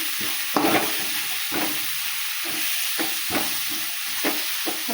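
Fenugreek leaves being stirred and mixed into a jowar flour mixture in a pan, with soft repeated scraping strokes over a steady low sizzle, close and fairly quiet with no talking.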